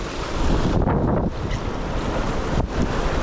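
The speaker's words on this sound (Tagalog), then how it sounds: "Lumaki pa na may alon." Ocean waves surge and wash over a rocky shore amid gusting wind, a loud close roar with a couple of swelling crashes rising and falling.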